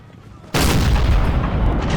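Cannon fire in the Napoleonic-era strategy game Napoleon: Total War, a sudden loud boom that opens into a continuous roar of artillery and gunfire lasting the rest of the moment.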